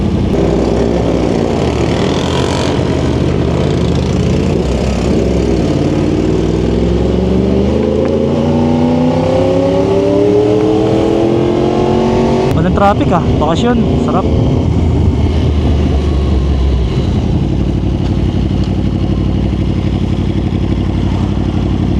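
A Yamaha R1 WGP 60th Anniversary Edition superbike engine roars loudly on the road, revving and shifting through rising pitch sweeps with wind rush, while a rider talks briefly over it.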